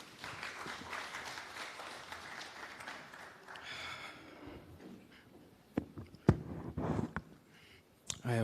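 An audience at a justices of the peace installation ceremony claps to welcome a musician. Soft, fairly distant applause runs for several seconds, then fades into scattered knocks and shuffling.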